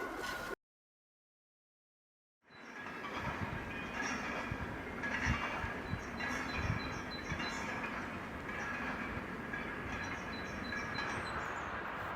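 Train passing close to travellers sleeping outdoors on the way to Ljubljana, a steady rolling rumble with faint clickety-clack that sets in after a short silence and stays loud and constant throughout.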